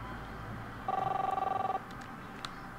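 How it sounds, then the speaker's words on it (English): A telephone rings in the video game The Awesome Adventures of Captain Spirit: one short burst of rapid electronic trilling, fairly faint against quiet room ambience, with no speech. "Chris, answer the phone, please"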